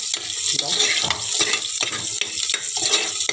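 Red onion frying in a pan for a Sunday mutton curry, a loud, dense sizzle with rhythmic stirring scrapes throughout, no talk.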